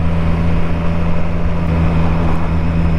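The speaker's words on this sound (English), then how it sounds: "And with this exhaust sound, it's amazing." Triumph Street Triple 765 motorcycle exhaust heard while riding, a steady loud engine drone with strong low hum and continuous wind rush, no talk.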